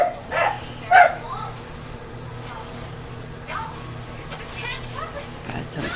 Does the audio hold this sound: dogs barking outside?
yes